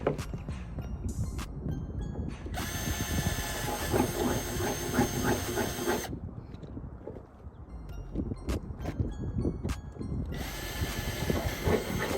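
A power drill whines in two long bursts, each running several seconds, drilling holes for a carbon fiber spoiler on a Dodge Charger Hellcat, separated by a brief lull, over steady low rumbling background noise.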